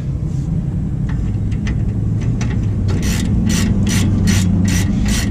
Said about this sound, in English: we're going to go ahead and bolt our caliper bracket back on here